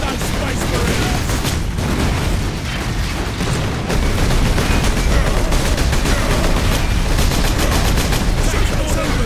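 Gunfire in Warhammer 40,000 Space Marine, a loud, dense, continuous barrage of rapid automatic shots and blasts that never lets up, with voices shouting in the middle of the fighting.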